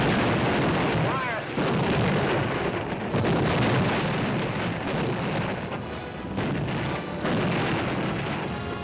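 Military artillery guns firing in a wartime barrage, a continuous loud rumble of booms and blasts with heavy, dense low thunder throughout.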